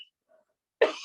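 A woman sick with COVID gives a single short, harsh cough close to the microphone after near silence.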